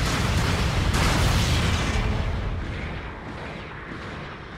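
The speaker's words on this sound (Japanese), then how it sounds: "拠点が爆弾により大破。" A bomb blast wrecks a base in Gundam Battle Operation 2, a loud, broad rumbling explosion that roars for the first couple of seconds and then slowly fades into a lingering low hum.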